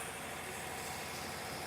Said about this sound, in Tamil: இன்ஜின் ஆன் பண்ணி விட்டுருக்காங்க.